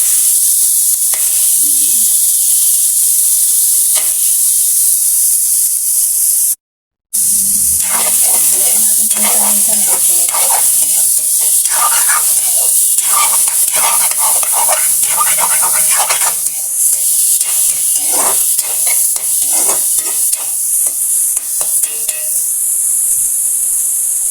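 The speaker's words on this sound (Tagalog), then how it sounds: "ilagay ko na din yung ating karne para habang nagigisa yung ating karne, yan, nagigisa na din yung ating sibuyas at saka bawang" Beef sautéed with onion and garlic in a pan for Filipino ginisang repolyo, loud continuous sizzling and hissing with frequent stirring clatter, broken by a brief gap early on.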